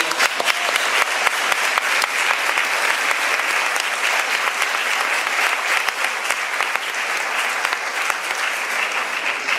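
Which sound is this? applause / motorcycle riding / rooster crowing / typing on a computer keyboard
applause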